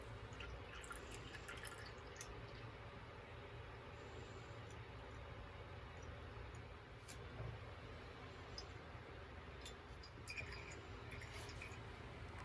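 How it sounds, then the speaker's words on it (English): Cold brew coffee drips through a V60 filter in a faint, steady patter of small drops over low background hum, with occasional sharper ticks. "Pour the cold brew onto the V60 filter."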